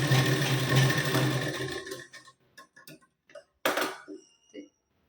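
A sewing machine runs steadily for about two seconds stitching a blouse seam with a half-inch margin, then stops; scattered clicks and handling noises of fabric and machine follow, with one brief louder burst near the end.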